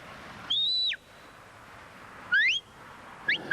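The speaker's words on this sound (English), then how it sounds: "this whistling with this piece of tin with a hole in" A shepherd's dog whistle made from a piece of tin with a hole gives three shrill bursts: a long held tone sliding down, then two shorter rising chirps, over a steady outdoor background hiss.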